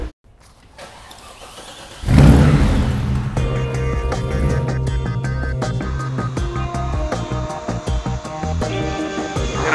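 A car engine cranks and catches after a quiet moment, then settles into a loud, close, steady running note with small revving swells and no talk.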